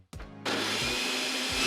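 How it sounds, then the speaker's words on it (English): A blender switched on by remote starts with a click and runs on as a loud, steady whirring roar that fills the room, with no voices over it. "I've even got a remote for my blender."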